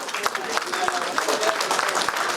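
A standing audience at a PIA industry interaction meeting applauds Minister Shobha, with brisk clapping from a crowd in a hall mixed with a voice talking over it.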